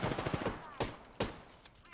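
Gunfire in PUBG: a quick rattling burst of rounds, followed by two separate loud, punchy shots close by over a low background hum.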